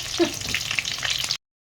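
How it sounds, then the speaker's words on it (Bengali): Meat sizzles in hot oil with onions in a kadai wok, a steady close-up frying hiss that cuts off abruptly after about a second and a half. "এই যে আমার মেজদি আজকে মাংস রান্না করছে,"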